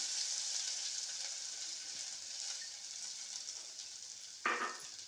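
Sago and other ingredients fry in a pan with a faint, even sizzle throughout, broken near the end by a brief louder scrape or clatter.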